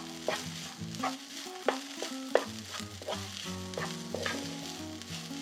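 Shrimp fried rice with bell pepper tossed in a pan, a continuous sizzle broken by sharp clanks and scrapes of the utensil against the pan, each strike ringing briefly.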